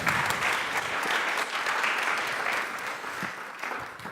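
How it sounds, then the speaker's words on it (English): Conference audience at DotYork 2018 claps for the final speaker, a full steady round of applause that eases slightly toward the end. "Please put your hands together one last time"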